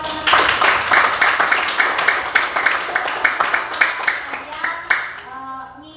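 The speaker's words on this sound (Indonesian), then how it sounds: "Ya, tepuk tangan buat teman-teman." Students in a classroom clap for their classmates, a lively burst of hand claps that swells quickly, holds steady and then thins out into a few scattered claps before fading.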